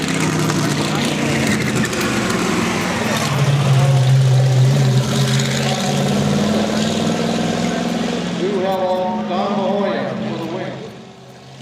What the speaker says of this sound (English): Next on the track is the 1937 Buick Oval Track car.